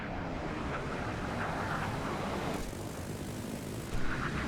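Propeller fighter plane engine in the War Thunder video game on a development server, a steady broad roar with wind rush that swells slightly and jumps near the end, alone without talk.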